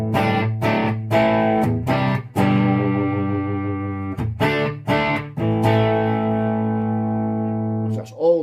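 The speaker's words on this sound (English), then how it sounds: "so it's a very hard distortion." Electric guitar played through a homebuilt tube amplifier using television tubes such as the PCF80, set to a very hard distortion; sustained, buzzy chords rung out one after another with rhythmic strums, loud and alone without talk.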